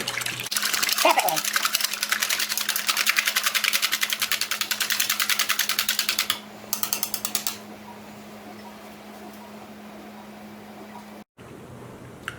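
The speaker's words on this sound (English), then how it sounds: "I do my egg. 1/3 cup of water, 1/3 cup of milk. And I mix those up." Egg, water and milk are whisked together in a bowl, a rapid, even clicking and scraping rhythm that runs loud for several seconds, stutters, then stops, leaving a quiet hum.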